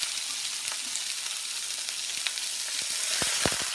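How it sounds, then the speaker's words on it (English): A trussed, stuffed beef roulade being rolled and browned in a hot pan, sizzling continuously up close with a few sharp crackles and spits growing denser toward the end. "just want to roll this in the pan. Get a nice color on all sides."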